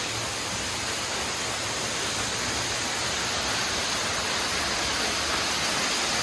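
A Kentucky waterfall roars in a dense, unbroken rush of falling water, loud and steady from start to finish with no other sounds on top.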